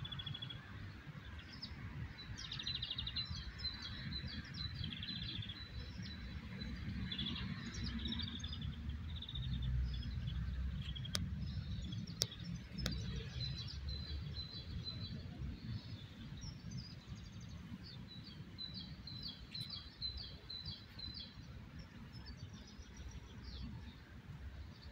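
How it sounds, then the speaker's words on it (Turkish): Birds chirp and tweet in repeated short bursts beside a road on a walk to school, steady traffic rumble running underneath throughout. "kuş sesleri geliyor. Hepsi karışık."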